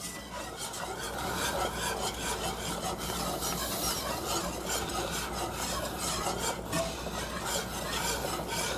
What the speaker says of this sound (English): Add a little liquid at a time and stir.